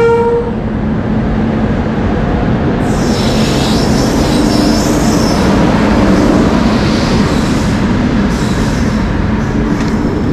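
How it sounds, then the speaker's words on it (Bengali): A long-distance train rushing past close by near Ahmedpur, a loud continuous roar of wheels and carriages that holds steady throughout, with a brief horn tone near the start and metallic squeal above. "দেখতে পাচ্ছ দূরপাল্লা ট্রেন চলে যাচ্ছে"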